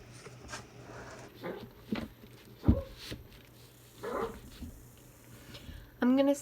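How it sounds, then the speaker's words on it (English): A female pet dog coughs indoors in a short series of sharp, separate bursts spread over several seconds, with a voice coming in near the end. "That's my dog. She's just coughing."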